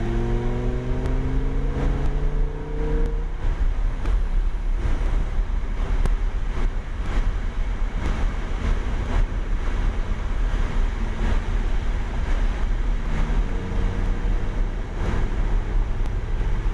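A supercar engine on a race track rises through gears with rising tones, heavy wind buffeting the microphone throughout and the engine note partly buried under loud rushing noise.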